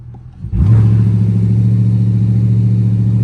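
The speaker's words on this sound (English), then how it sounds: "Activating launch control, 1700 RPMs. Let's get it." A Dodge Charger RT launches hard on launch control from about 1700 rpm, its engine jumping from a quiet idle into a loud, sustained, close roar with a steady low exhaust drone.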